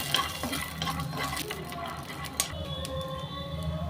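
Peanuts are stirred and roasted on an oiled griddle pan, with a soft continuous sizzle under light scraping and clinking from the stirring utensil, close and fairly quiet.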